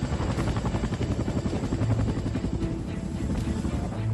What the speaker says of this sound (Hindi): अमेरिका से मिला चिनूक हेलीकॉप्टर लगातार गौचर से केदारनाथ कंस्ट्रक्शन मटेरियल और जरूरी सामान लेकर पहुंच रहा है